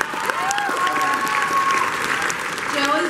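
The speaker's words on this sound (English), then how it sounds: "Round of applause for this guy." An audience at a WonderCon fan convention panel applauds loudly and steadily, a dense wash of clapping with a few whoops and voices mixed in.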